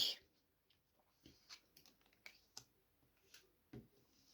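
Tarot cards drawn and handled up close, with soft paper taps, slides and flicks in a sparse irregular series in a quiet room.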